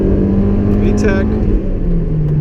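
Inside a Honda S2000 AP1, the engine drones steadily in third gear through VTEC engagement, loud and continuous, while someone talks over it.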